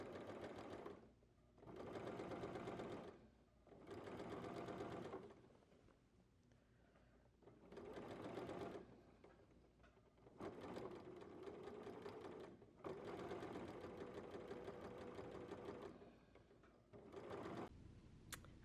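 A sewing machine stitches a half-inch hem in watermelon-print fabric, running in several bursts of rapid, even whirring clatter separated by short pauses, close and clear.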